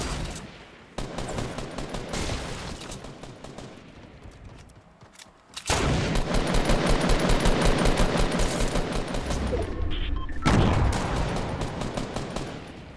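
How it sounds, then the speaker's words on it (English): Rapid automatic gunfire in the Fortnite battle royale game, sustained bursts that fade briefly, then return louder and denser with continuous rattling volleys. "I'm getting shot from the west also."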